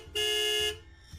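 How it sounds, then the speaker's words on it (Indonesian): A single short car horn blast sounds nearby, loud and sustained for about half a second before cutting off. "bunyi klakson kendaraan yang bersahutan berada di belakangku"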